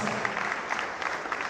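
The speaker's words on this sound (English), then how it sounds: "So please, the 4 of you, give them a round of applause." An audience at a tech event applauds a group of four people, with a dense wash of clapping at moderate level and a few sharper claps standing out.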